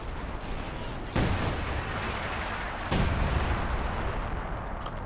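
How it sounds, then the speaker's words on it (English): Artillery barrage in the strategy game Company of Heroes 2, a dense, continuous roar of battle noise with two heavy blasts landing about two seconds apart, loud and sustained throughout. "Major artillery."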